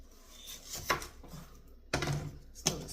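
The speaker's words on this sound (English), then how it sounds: "let's cut the onion up first because this is going to be a pain" Knife chopping through an onion on a cutting board while preparing fresh salsa with homegrown peppers, tomatoes and herbs, heard as a few distinct close, sharp chops spaced unevenly with quiet between them.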